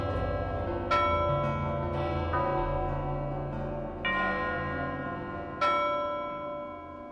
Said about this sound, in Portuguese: os sinos que são tocados aos montes para livrar o ar de estagnações